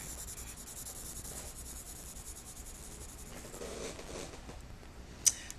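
Pencil shading middle values on paper in a drawing demonstration, a soft continuous scratchy rubbing heard close up, quiet and steady, with one small tap near the end.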